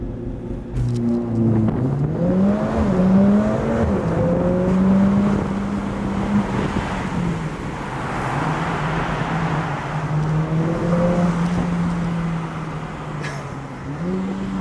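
A Mercedes CLA45s AMG pulls away hard, its engine climbing through revs in stepped surges with gear changes, loud and close from inside the cabin, then settling into a steady drone.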